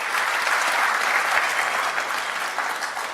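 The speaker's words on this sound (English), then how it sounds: "just a big round of applause for them" A round of applause from the audience at an OpenWrt Summit wrap-up session, dense steady clapping throughout, moderately loud with no speech on top.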